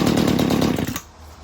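A Mantis rototiller's small engine runs rough and loud with rapid pulsing firing, then abruptly drops to a quiet low idle near the end.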